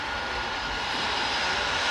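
Steady roar of a plane's aircraft engine after landing in the World of Airports game, a loud, even broadband whine and rumble that continues unbroken with no talking.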